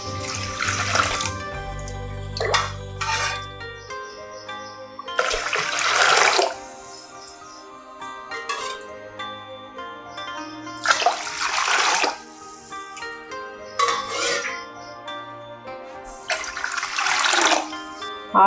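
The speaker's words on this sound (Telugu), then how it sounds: "సో ఇప్పుడైతే నేను ఇందులో 5 గ్లాసుల వాటర్ అయితే వేసుకుంటున్నాను." Water is poured into a cooking pot in about five splashing bursts, one per glass, for rice pongal. Each pour gurgles loudly for a second or two, separated by quieter gaps with faint hum and small clinks.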